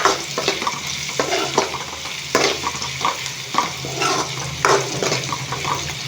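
Ivy gourd fry being stirred in a pan with a pinch of turmeric, a spoon scraping in repeated strokes over a steady sizzle, fairly close and loud with no talk.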